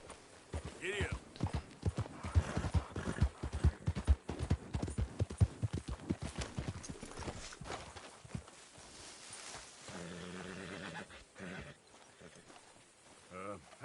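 A horse's hooves galloping in the Red Dead video game, a fast, rhythmic clip-clop that slows and fades toward the end, with a voice talking over it.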